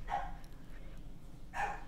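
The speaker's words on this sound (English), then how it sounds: "Oh, the dogs are barking." Dogs bark in Animal Crossing: New Leaf, two short, soft game-style barks about a second and a half apart, with quiet background between them.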